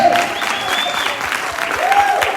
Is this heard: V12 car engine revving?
no